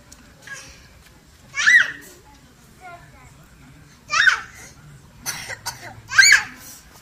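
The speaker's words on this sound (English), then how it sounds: "got a little bit of a cough." A child coughs outdoors in the evening after dinner, three short bursts spaced a couple of seconds apart, fairly close, with quiet background sounds and light movement between them.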